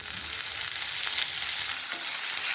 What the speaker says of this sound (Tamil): தாளிப்பெல்லாம் வறுபட்டுருச்சுங்க.